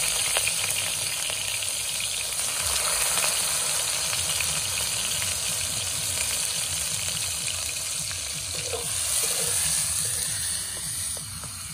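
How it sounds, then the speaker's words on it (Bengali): Food sizzles steadily in a pan over a picnic cooking fire, a loud, continuous frying hiss with faint crackles that holds unbroken throughout, and no voices are heard. "যে এখন এগুলো সব ভেজে নেব।"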